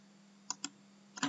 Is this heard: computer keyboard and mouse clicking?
yes